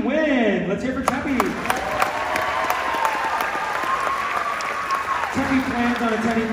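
A crowd claps for a graduating high school band senior at a band seniors celebration, dense, sustained applause with sharp individual claps, and an announcer speaking at the beginning and end.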